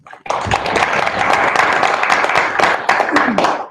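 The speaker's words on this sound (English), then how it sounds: "So a round of applause." Applause from an audience at a union membership meeting, a loud, steady round of clapping that starts abruptly and carries on for several seconds.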